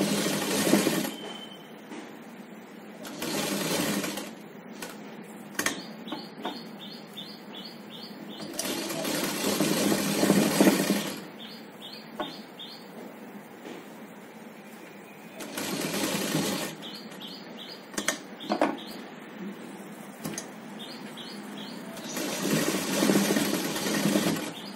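A sewing machine stitching the lining of a child's umbrella frock, running in several short loud bursts with quieter gaps of fabric handling between them.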